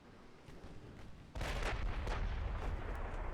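Naval gunfire and high explosive shell hits from the warship game Ultimate Admiral Dreadnoughts burst in as a sudden heavy rumble, followed by several deep booming impacts layered into a continuous roar.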